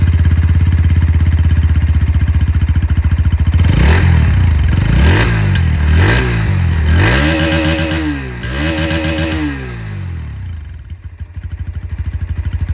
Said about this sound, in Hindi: अब मैं आप लोगों को यहाँ पर जो NS 125 है इसकी भी आवाज़ सुना